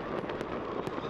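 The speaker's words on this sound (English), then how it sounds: "here's a look at some of the fireworks we saw earlier tonight in downtown St. Louis" Fireworks bursting over downtown St. Louis for a New Year's Eve celebration: several sharp cracks and pops in quick succession over a dense, rumbling wash of noise.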